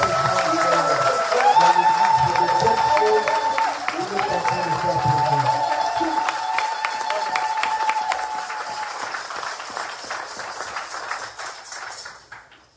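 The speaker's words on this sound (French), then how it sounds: "Acclamez Acclamez très très fort" A church congregation bursts into loud, sustained applause and cheering, crowded and energetic at first, then thinning and fading toward the end amid voices and music.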